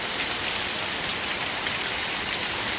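Heavy unseasonal rain pours steadily in the Konkan countryside, a dense, even hiss of downpour drumming on surfaces throughout, loud and close with no breaks.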